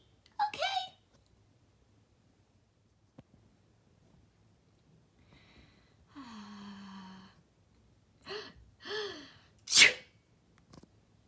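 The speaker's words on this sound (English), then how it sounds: "Why am I sneezing?" Sharp sneezes stand out amid quiet stretches, with a gasping intake before them and moaning, sighing vocal sounds in between; a young voice is heard.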